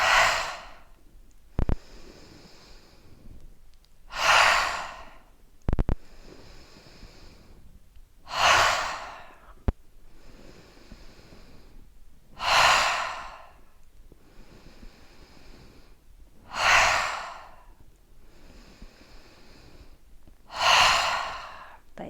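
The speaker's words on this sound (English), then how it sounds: "Breathe in, breathe out." Slow, deep breaths in and out repeat at an even rhythm during a vinyasa yoga flow, each airy exhale rising clearly from a quiet room, about five or six cycles in close, unhurried succession.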